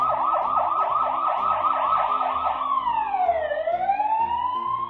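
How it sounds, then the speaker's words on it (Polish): A cartoon police car siren wails loudly and alone, cycling in a fast rising-and-falling yelp before sweeping into a long slow tone, as if the car is approaching. "I już po chwili było słychać nadjeżdżającą policję na sygnale."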